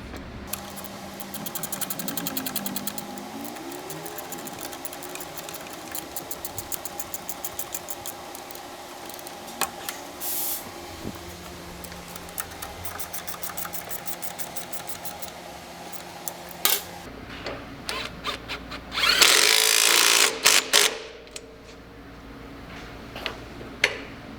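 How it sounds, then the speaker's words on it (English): Hand wrenches, a 3/8 and a 9/16, tightening the bolts on a rear crash bar for a Harley Dyna motorcycle, with intermittent clicks and ratcheting metal taps, close by, and a louder burst of rattling near the end. "I'm just gonna torque those down."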